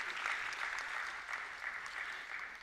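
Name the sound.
applause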